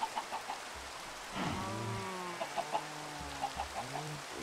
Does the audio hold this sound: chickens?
yes